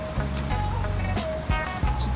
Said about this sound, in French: Quand il a plu et qu'il y a des voitures, tu te fais éclabousser de partout.